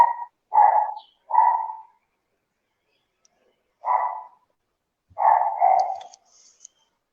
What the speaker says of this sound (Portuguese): Esse pitbull aí que está latindo?